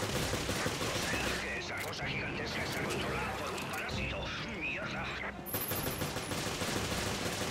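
Rapid gunfire in the video game Resident Evil: Revelations crackles and bursts continuously, with people talking over the shooting.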